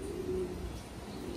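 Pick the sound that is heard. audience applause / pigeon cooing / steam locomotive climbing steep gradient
pigeon cooing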